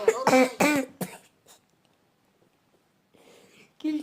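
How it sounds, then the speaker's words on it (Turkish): A person coughs several times in quick succession while trying to laugh, with raspy, voiced bursts close to the mic, then a pause, then more throaty voicing. "Güleceğim diye öksürdüm."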